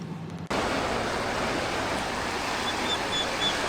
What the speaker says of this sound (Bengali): সমুদ্রের পাশে এই শুয়ে থাকা সমুদ্রের গর্জন